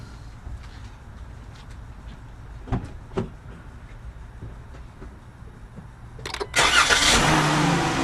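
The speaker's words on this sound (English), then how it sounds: "And we'll go crank the car and see what happens." A 2016 Chrysler Town & Country is heard through faint background noise, with a few soft clicks before its engine cranks briefly and catches, ending in a loud, steady idle.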